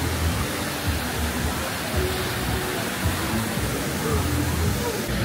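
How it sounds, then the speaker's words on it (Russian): Rushing water roars steadily at water park slides with a strong current, a loud broadband wash filling the whole stretch without letup. "Тут сильный напор, и тебя уносит водой."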